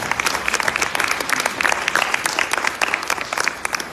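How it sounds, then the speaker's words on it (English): An audience at a Hindu temple morning program claps steadily, a dense, close burst of applause sustained throughout without a break. "Big clapping for him."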